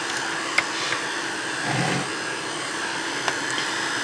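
A hand-held heat or hand dryer blows air over wet white gesso on a small mixed-media journal page, giving a steady, fairly loud whooshing hiss that holds for several seconds with a few light taps and no talking.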